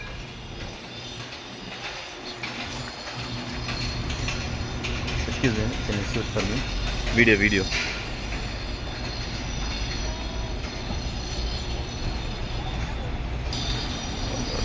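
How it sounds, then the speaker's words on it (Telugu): A Dakar local train departs from a station platform with a continuous rolling rumble and sharp bursts of wheel squeal around the middle, while a person talks over it. "డోర్లు క్లోజ్ అయిపోయి వెళ్ళిపోతుంది."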